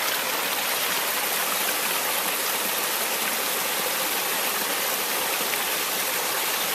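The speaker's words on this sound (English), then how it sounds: "Probably one of the prettiest little creeks we've seen on our trail trip so far. So some nice little features, nice little waterfalls coming down." Creek with small waterfalls on the Appalachian Trail, a steady, full rush of falling and tumbling water that fills the scene without pause, close and loud.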